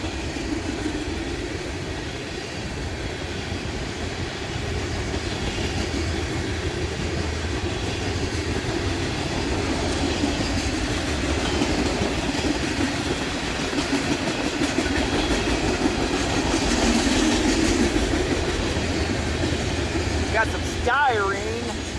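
Northbound freight Train 39 carrying vinyl chloride rolls past on Main Street in Huron, Ohio, a continuous, loud rumble and rhythmic clatter of wagons over the rails, with voices audible beneath it.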